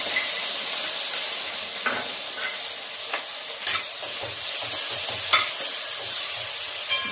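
Broccoli and mixed vegetables stir-fry in a pan, a constant close sizzle broken by sharp, irregular scrapes and clinks of the spatula being turned, with no voices.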